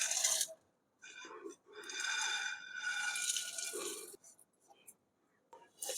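Roasted gram dal poured into a mixer jar makes dry, gritty rattling bursts that come in a few uneven pours separated by short silences.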